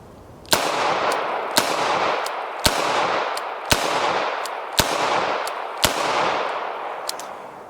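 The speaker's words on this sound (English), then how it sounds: "Now, we've been shooting some Smith & Wesson 32 longs, and they're super sweet to shoot" Seven sharp gunshots from a Smith & Wesson Model 632 revolver firing .32 ammunition, spaced roughly a second apart with a short echoing tail after each, loud and close, no talking.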